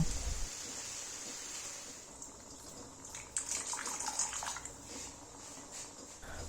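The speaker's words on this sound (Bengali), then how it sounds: "তারপর ভালো করে কষিয়ে জল দিয়ে দেব" Water is poured into a pan of vegetables being cooked for a fish-head mixed vegetable curry, a soft splashing pour that swells midway and trails off, fairly faint and close.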